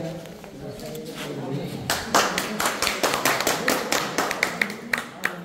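A crowd claps at a medal ceremony during a friendly football tournament, with irregular claps that grow denser and louder over a few seconds while an announcer talks over them.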